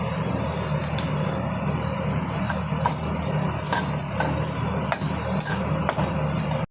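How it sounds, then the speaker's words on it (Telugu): Dry coconut is stirred into beans poriyal frying in a pan. A steady sizzle runs underneath while a spoon scrapes and taps against the pan at a fairly regular pace. "నేను ఎండు కొబ్బరి వేసుకుంటున్నానండి."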